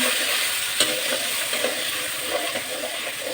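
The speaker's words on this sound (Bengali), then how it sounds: "কড়াইতে তেল দিয়ে দিছে এই যে এখন ডিমগুলো ছেড়ে দিবি ডিমগুলোকে আগে ভেজে নিচ্ছি" Eggs fry in hot oil in a wok, giving a steady, close, loud sizzle and hiss that runs without a break, with a few faint scrapes of stirring and no voices.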